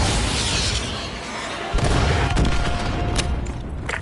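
An AGM missile strikes and destroys a BTR armoured vehicle in a video game, producing a dense, roaring explosion that swells after a sustained rumble, with crackling debris and scattered pops following.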